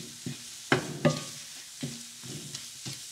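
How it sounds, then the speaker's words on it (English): Intermittent stirring knocks and scrapes in a pan over a soft, steady sizzle of spices frying with an onion and tomato mix for egg curry, with a few louder clatters spaced irregularly. "Frying the spices with the onion tomato mix is going to give our curry a lovely flavor."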